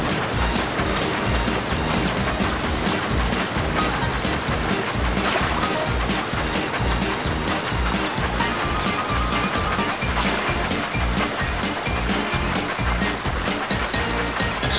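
Continuous rushing, splashing water of a Thomas & Friends video game water slide fills the whole stretch at steady loudness, with churning waves and spray and no voices.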